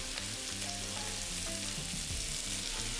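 Garlic and onions fry in oil in a wok, giving a loud, constant sizzle close up with light scraping from stirring running through it and no voices.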